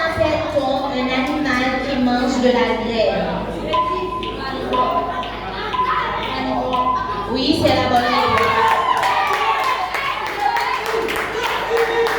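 An audience at a school quiz semi-final claps for the contestants, with rapid irregular hand claps continuing through the whole stretch beneath voices and some children's chatter.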